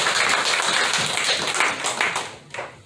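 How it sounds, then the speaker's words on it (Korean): A church congregation claps together in praise, brisk close applause with audible individual hand strikes that thins out and ends within a few seconds. "우리 하나님께 영광의 박수하겠습니다"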